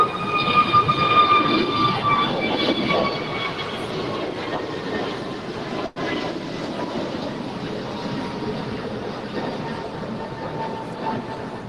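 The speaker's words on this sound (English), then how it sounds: "Here is Delta Airlines Flight 868 coming in from Seattle" A Delta Airlines passenger jet arriving at LAX from Seattle gives a moderate, steady engine rumble with faint whining tones. A brief dropout interrupts it midway before it continues at an even level.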